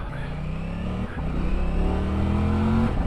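A sport bike engine revs and accelerates, its pitch climbing steadily in two pulls with a brief dip between them. It is loud and close throughout, with no talking.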